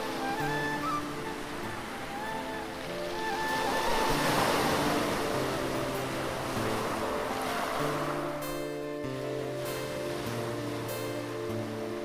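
Sea waves roar steadily on the shore at Guhagar Beach on the Konkan coast, swelling in the middle, while a soft melodic tune plays underneath throughout.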